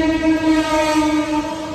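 A train at Ambernath station, bound for Badlapur, gives a loud, sustained tonal horn that holds steady and close throughout the short stretch, with no talking.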